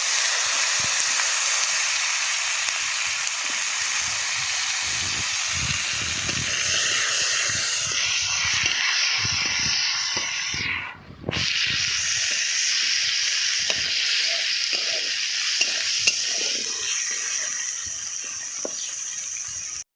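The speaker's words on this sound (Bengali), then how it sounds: "ফোড়ন উঠে গেছে, আমি টমেটো কুচি দিয়ে দিচ্ছি।" Chopped tomato goes into a hot pan of cumin, bay leaf and dried chilli tempering for a tengra fish curry, making a loud, steady, close-up sizzle and hiss that lasts throughout, with a brief dip partway through.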